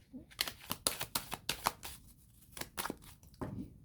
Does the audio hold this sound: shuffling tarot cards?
yes